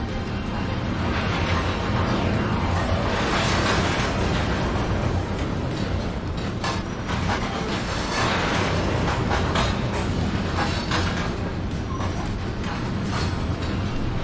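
Continuous rumbling and rattling of train cars in Train Sim World 22, with slack-action clanks and metallic clatter over a steady, loud rolling roar throughout.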